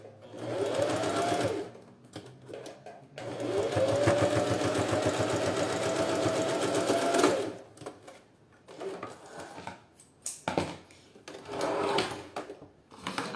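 A sewing machine stitches a synthetic leather wallet in close, rapid bursts, a loud run of several seconds between shorter starts and stops, with handling clicks in the gaps.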